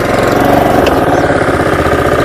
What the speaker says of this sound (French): Le démarrage de cette tondeuse est extrêmement facile grâce à la poignée de démarrage qui est située juste ici